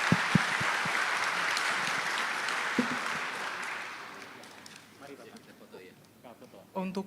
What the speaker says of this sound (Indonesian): Kita beri aplaus sebagai penutup.